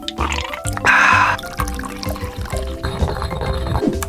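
Mountain Dew soda is poured into a drink mix, giving a brief fizzy splashing rush amid clattering and bubbling liquid sounds, close by with no talking.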